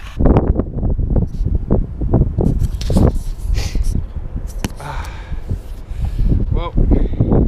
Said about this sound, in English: probably can't hear much because it's windy